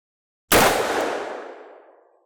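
A single loud .454 Casull revolver shot into a ballistic gel block, starting with a sharp blast that rings and fades away over about two seconds, with no voices.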